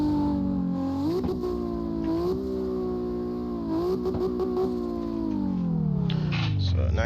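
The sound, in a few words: 900 horsepower drift car engine revving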